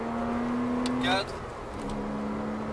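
A Porsche on a race track holds a steady engine drone that drops in pitch and loudness as the throttle eases, heard from inside the car with a voice briefly speaking over it.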